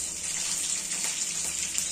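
Chopped green chillies go into hot oil with crushed garlic for a tempering in a methi and moong dal dish, giving a continuous, close, bright sizzling hiss.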